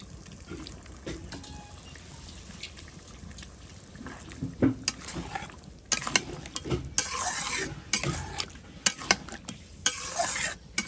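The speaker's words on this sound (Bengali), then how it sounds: "আমি মাংসগুলো দিয়ে দেবো মাংসটা ভালো করে কষাবো" Meat sizzles and is stir-fried with spices in oil in a pan, with scraping stirs and bursts of frying growing louder toward the end, close up and with no talk.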